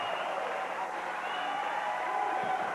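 Volleyball crowd at the 1994 Hawaiian Airlines Wahine Classic, Hawaii vs Illinois, rising to its feet at match point: a dense, steady roar of cheering and clapping that holds loud from start to finish.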